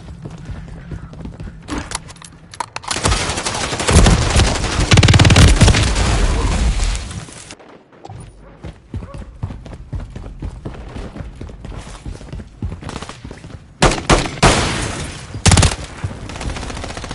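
Rapid gunfire crackles through a video game firefight, with dense bursts building to a loud, sustained barrage, then sparser shots and another sharp flurry near the end.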